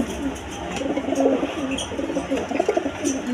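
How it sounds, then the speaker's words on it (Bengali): Garret pigeons, one settled on eggs in a breeding loft, coo steadily in low rolling calls close by over a constant background hum, with no talking. "এই যে দেখেন ডিমের মাথায় বসে পড়ছে, এই গ্যারেটের কবুতর"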